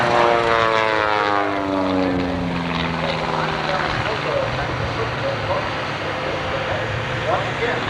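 An aerobatic propeller airplane at the 1989 Oshkosh airshow performs outside snap rolls, its engine roaring loudly with a falling Doppler pitch sweep as it passes, then a sustained rough drone with crowd and wind noise.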